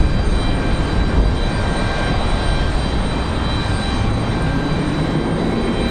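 Delta Air Lines Boeing 737-800 arriving at Raleigh-Durham on a windy day, a steady broadband engine roar holding at constant loudness throughout, with wind noise mixed in and no voices.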